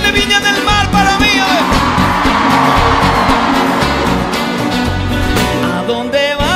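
A large festival audience at Viña del Mar shouts and cheers in a loud, continuous roar of many voices, with sustained yells and whoops rising over one another.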